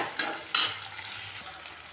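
Shallots, garlic and dried red chillies sizzling in hot oil in a pan for a village-style curry, with a couple of louder stirring scrapes over a steady crackle.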